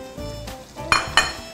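Cooked beans fry in a pan with a steady sizzle, broken by a couple of sharp clinks from a utensil against the pot.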